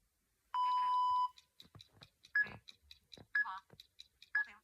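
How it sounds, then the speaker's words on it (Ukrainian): A timer starts with one long electronic beep, followed by short beeps at a steady one-second pace, close and clear, with a voice speaking briefly between them. "Тоді я включаю таймер, а всі приготувались."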